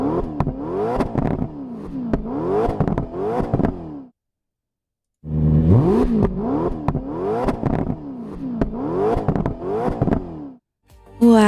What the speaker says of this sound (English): Let's hear what the engine sounds like.